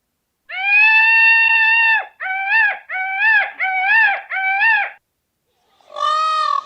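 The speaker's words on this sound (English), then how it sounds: "Peacock sound." A peacock calls in a series of loud, harmonic wailing cries: one long drawn-out note, then four shorter rising yelps in quick succession, a pause, and a final brief cry, each clear and close against silence.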